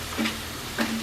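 Crab pieces sizzling in butter with garlic in a pan, a steady frying hiss with two short stirring scrapes.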